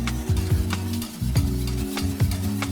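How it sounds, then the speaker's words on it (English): A whisk beating fine sugar into a chocolate Guinness cake batter in a bowl, rhythmic scraping strokes repeating about twice a second, close and fairly loud with no talking. "You've got to whisk it in."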